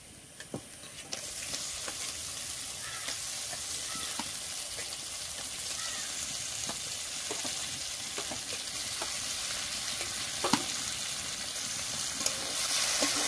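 Lote fish (Bombay duck) dropped into hot oil that has separated from the cooked spice paste, sizzling and frying steadily with a constant hiss and occasional pops and stirring clicks, fairly close and without talk.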